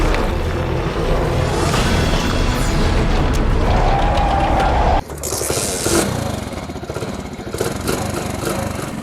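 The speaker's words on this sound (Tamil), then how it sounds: "நான் ஏன் லைட்டாக த்ராட்டில் கொடுக்குறேன் அப்படின்னா, விட்டனா ஆஃப் ஆகிடும் ஆக்சுவலி" An abandoned motorcycle, long left standing, runs with light throttle: a loud, rough, close engine idle with uneven revving, which drops abruptly partway through before settling into a steadier chug.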